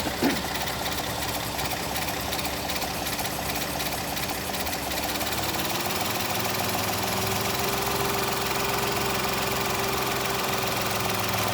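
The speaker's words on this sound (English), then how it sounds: "now I'm going to go ahead and turn the air conditioner on because we need the compressor running for this." Car engine idling with the air conditioner switched on and its compressor running, a steady mechanical hum with a faint knocking texture and a slight pitch change partway through, continuous and close.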